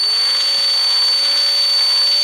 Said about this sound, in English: I'm going to try and drill these headlights out